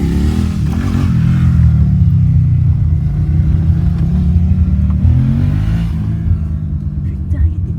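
Car engine revving and accelerating on a street during a short-film shoot, with a steady, loud low rumble throughout and voices talking over it.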